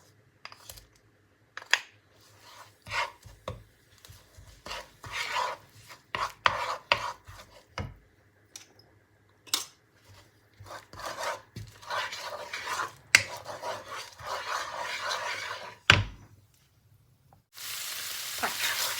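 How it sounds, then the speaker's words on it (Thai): Thai curry paste being stir-fried in a pan with a little coconut milk for a minced-beef curry gives bursts of sizzling and scraping spatula strokes. The sounds come close and irregular, and a loud continuous fry sets in at the end. "แล้วเราก็จะ เอาพริกแกงลงไปผัดนะคะ"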